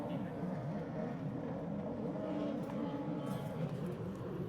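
Jet skis race on open water at a Baltic series Ski GP1 event in Pärnu, Estonia, their engines a steady, distant droning roar that holds evenly throughout.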